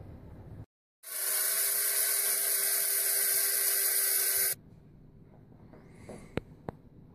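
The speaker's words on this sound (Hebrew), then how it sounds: "לפלאפל טוב כדאי שהכמון יהיה טרי, אז אנחנו טוחנים אותו על המקום." A spice grinder whirs steadily for about three and a half seconds, grinding fresh cumin for falafel; a loud, close, high buzzing whine that cuts off sharply, followed by quiet kitchen handling and a couple of faint clicks.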